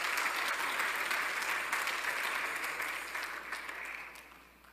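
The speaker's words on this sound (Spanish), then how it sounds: "Démosle fuerte ese aplauso al Señor." A church congregation claps loudly and steadily during a sermon, the applause slowly thinning and fading out toward the end.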